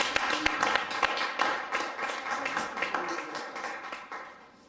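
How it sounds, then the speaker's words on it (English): Scattered applause from the audience of a live radio podcast show, a steady patter of claps at moderate distance that thins out and fades toward the end. "Let's give them a round of applause for God."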